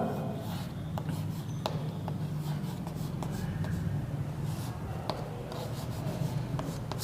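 Chalk or marker scratches across a board during a Hindi geometry lesson on angles, with steady rubbing strokes and occasional sharp taps over a low background hum.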